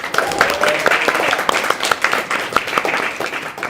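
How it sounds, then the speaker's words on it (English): An audience at a State of the District event gives a round of applause, distinct individual claps standing out within a lively, moderately close crowd clapping that carries on steadily. "Carla, a big round of applause"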